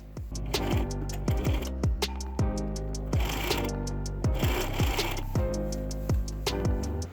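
A sewing machine stitches a long skirt tier, running in a fast, steady mechanical rhythm of close, loud clicks and whirring, with brief pauses and restarts.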